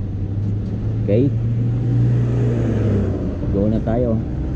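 A truck loaded with stones rumbles along a street in Japan, a low, steady engine drone beneath a voice speaking close by.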